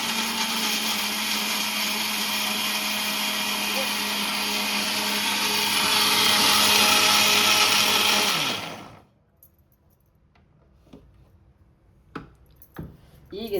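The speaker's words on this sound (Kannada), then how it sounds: "ಹಂಗಂದ್ರೆ ಗ್ರ್ಯಾಂಡ್ ಮಾಡಿ ತೋರಿಸ್ತೀರಾ" An electric mixer grinder grinds raw mango chutney without added water, a loud steady whirring roar for about nine seconds that winds down and stops, followed by faint clicks and handling noises.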